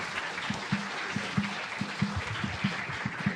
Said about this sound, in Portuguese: Uma salva de palmas, professor,